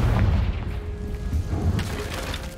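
A Confringo fire-blast spell explodes in Hogwarts Legacy as a deep, rumbling boom that rolls on in low thuds and fades slowly.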